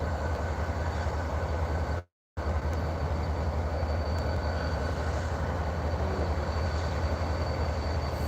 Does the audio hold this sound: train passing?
yes